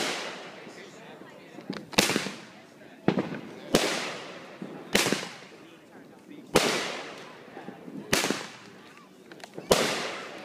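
A 35-shot fireworks cake firing outdoors: loud sharp launches come roughly every second or two, each followed by a crackling, fading burst.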